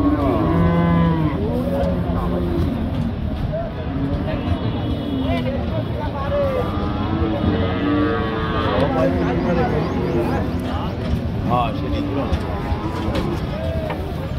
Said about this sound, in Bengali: আপনারা দেখতে পাচ্ছেন এইদিকে একটা দেখা দেখি চলতেছে লাল গরু, মূলত ইন্ডিয়ান বলদ গরু।